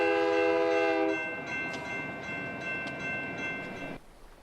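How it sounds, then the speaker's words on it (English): A train passes a railway crossing, its horn sounding loud and steady at first, then fading as the rumbling cars roll on before the noise cuts off. "Look for the train."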